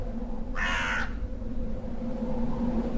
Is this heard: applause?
no